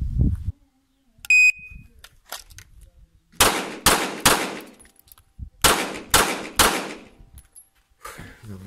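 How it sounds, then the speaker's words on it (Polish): Six sharp, loud pistol shots from an HS SF19 in two groups of three, with a brief electronic beep and quiet shuffling before them. "Dobra, mamy 6 strzałów oddanych."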